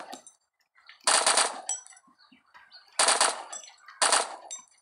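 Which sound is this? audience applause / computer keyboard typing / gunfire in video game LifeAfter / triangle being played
gunfire in video game LifeAfter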